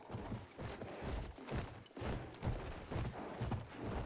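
Horse hooves clip-clopping in the video game Battlefield 1, a quick, irregular run of thudding steps at moderate volume with faint battle noise behind.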